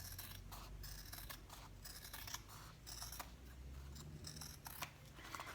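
Scissors trimming the material of a handbag slip pocket: a quick run of quiet, close snips and rustles, one after another, with no voices.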